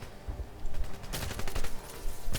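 Gunfire rattles in 007 Legends, quieter shots at first and then a dense loud burst of rapid automatic fire that keeps going to the end.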